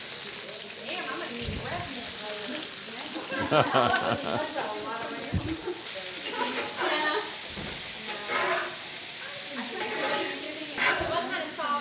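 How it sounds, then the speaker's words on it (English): Onions and already-cooked smoked sausage sizzle in a pan, a steady hiss and crackle with stirring scrapes, while a person talks over it. "Okay, we gave a little color to the sausage. Now I'm going to put some onions."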